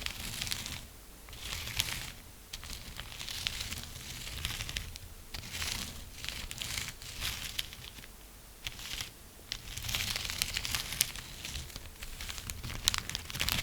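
Crinkling of a rice-filled plastic bag, dense crackly bursts rolling on and off in waves, close and fairly steady with brief pauses between handling.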